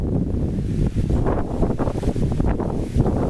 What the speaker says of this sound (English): Let's just enjoy the wind.